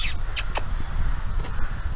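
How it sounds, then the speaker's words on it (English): Crows caw in short harsh bursts around the grounds of Jerpoint Abbey in Ireland, a few calls close together over a steady background of wind or outdoor noise. "Listen to the crows."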